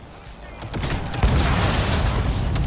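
Enemy gunfire in Cyberpunk 2077 swells into a rapid rattling fusillade of shots, loud and close, with sharp bursts over a rumbling din that grows heavier partway through.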